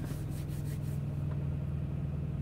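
A car engine idles at about 1200 rpm, a low steady hum and rumble that holds throughout at moderate level, with no talking.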